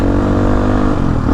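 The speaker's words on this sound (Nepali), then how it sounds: "नो बाइकको इन्जिन एकछिन तात्नुपर्छ।" A Kayo off-road motorcycle engine idles loudly and steadily while warming up, recorded close with a constant rumbling drone and no talk.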